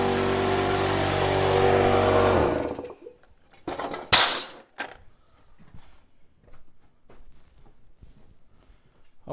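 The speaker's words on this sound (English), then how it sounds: "I'm gonna go shut my air compressor off and switch the lines around." An air compressor runs loudly and then shuts off abruptly, followed by a sharp hiss of released air and quieter clicks and knocks as air lines are switched around.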